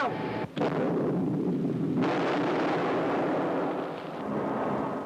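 A tank's main gun fires in a military tactics video game with an armoured group and infantry: one sudden blast right at the start, then a long, heavy rumbling roar that fades slowly.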